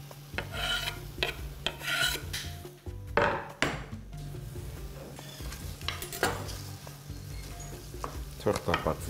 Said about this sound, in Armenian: Թող տապակվի սոխը